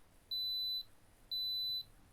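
Two identical high-pitched electronic beeps, each about half a second long, sound one second apart, clear and steady over faint background hum.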